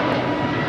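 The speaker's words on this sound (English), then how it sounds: "That's an E175 coming in from Sacramento." An Embraer E175 jet arriving at LAX roars as a loud, broad engine rush in a brief steady burst.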